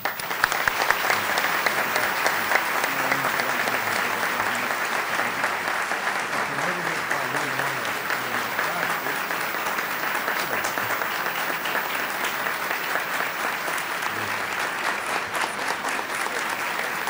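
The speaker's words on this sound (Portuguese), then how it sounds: "peço uma salva de palmas" Sustained applause from a large crowd at an inauguration ceremony, steady and dense clapping that continues evenly for the whole stretch without pause.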